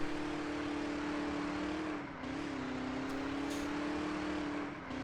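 Maybach S650 in an online driving game, its engine holding a steady tonal drone that dips briefly around midway, then resumes under faint intermittent clicks, with no speech.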